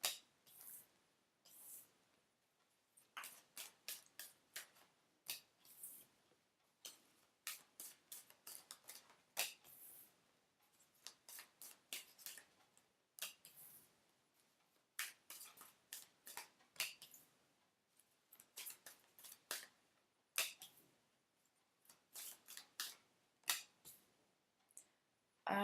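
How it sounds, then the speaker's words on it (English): Rider-Waite tarot cards are shuffled and pulled, giving sharp, crisp card snaps and riffles in irregular bursts separated by short pauses, close and quiet, with no talking. "Let's use the Rider-Waite. Okay, I'm going to pull some cards first."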